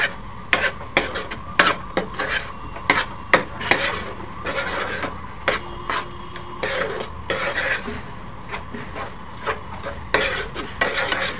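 Spoon scraping and clattering against a pan while stirring egg bhurji masala with boiled eggs over a low flame, a steady series of sharp metallic knocks close by, with no one talking.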